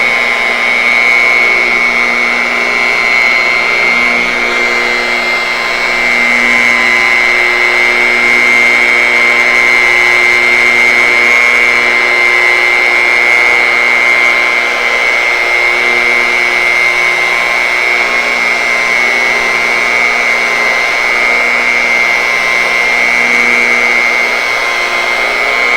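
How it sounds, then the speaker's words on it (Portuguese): A car polishing machine with a polishing pad runs steadily close by, giving a loud, even whirring whine with a strong tonal hum that holds throughout. "Agora você solta a máquina para ela tirar as marcas da boina"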